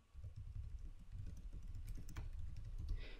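Java code being typed on a computer keyboard: a steady, close run of quick, soft keystroke clicks, alone.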